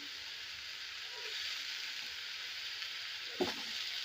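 Ginger, green chili and garlic sizzle in hot oil for a prawn biryani, a steady close hiss with one short stirring scrape near the end.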